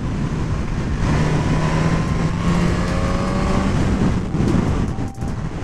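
A 2022 Suzuki GSX-S 1000 four-cylinder motorcycle accelerates hard, its engine a loud, continuous rising roar with steady wind rush throughout and a brief dip near the end.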